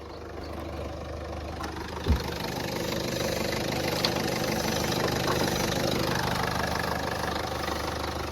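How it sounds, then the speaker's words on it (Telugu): A 2012 Ford Figo diesel engine idles with the bonnet open, a steady, close diesel clatter and hum holding an even level, with one brief thump partway through. "ఇంజన్ స్టార్ట్ చేసిన. మీరు ఇంజన్ సౌండ్ అయితే వినొచ్చు."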